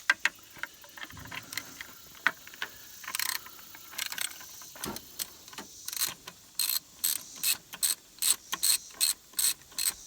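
A ratchet wrench clicks away on a 2005 Subaru Forester during a timing belt job, scattered clicks at first, then a steady run of rapid ratcheting strokes that grow louder and more regular, close up with no talk.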